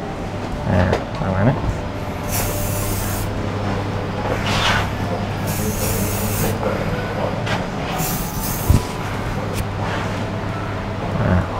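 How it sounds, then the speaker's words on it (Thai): Hair spray from a can misted onto hair during barber styling, several short hissing bursts under a steady low hum and background noise, with someone talking at times. "ทีเนี้ยก็พอเราฉีดสเปรย์ไป"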